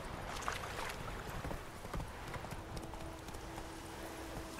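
Horse hooves clip-clop at a steady trot in The Witcher 3, the game's mount moving at a walking pace with faint ambient wind beneath, fairly close and continuous with no voices over it.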